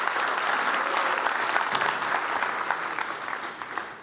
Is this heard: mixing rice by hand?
no